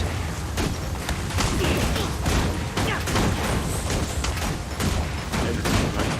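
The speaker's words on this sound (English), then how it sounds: "Engage incendiary shells." Incendiary shells fire from an Asura Engineer in the Guild Wars 2 video game, a rapid, steady volley of cracking blasts and explosions that runs throughout.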